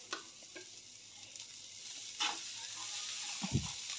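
Garlic and ginger-garlic paste fry among spices in a pan of Maharashtrian ridge gourd bhaji, making a soft, steady hiss with a brief flare partway through and a small clatter near the end.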